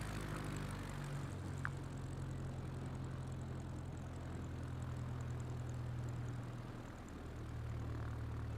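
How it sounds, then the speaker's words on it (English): A propeller airplane taxis across a grassy field in Microsoft Flight Simulator 2024, its engine a steady low droning hum with a faint whine, continuous and unbroken throughout. "I'm gonna drive the airplane along the field here"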